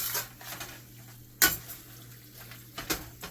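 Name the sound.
stirring cheesesteak sloppy joe mixture in a pan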